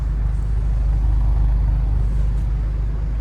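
Audi S3 with quad exhaust, a deep steady engine drone idling at close range, constant and loud with no voices over it.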